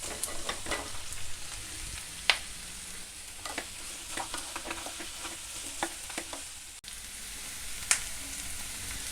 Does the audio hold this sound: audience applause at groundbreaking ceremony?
no